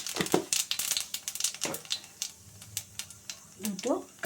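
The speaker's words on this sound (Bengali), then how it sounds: "এবার তেলে কালি জিরে ফোড়ন দিলাম" Nigella seeds are tempered in hot oil, sending up irregular crackles and spitting pops in quick bursts while a person talks nearby.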